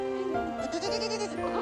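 A cartoon goat lets out one drawn-out, wavering bleat, loud and close, heard alone for about a second and a half.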